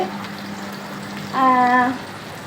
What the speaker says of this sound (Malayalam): അപ്പോൾ ചിക്കൻ ഫ്രൈ ആയിക്കൊണ്ടിരിക്കുന്നു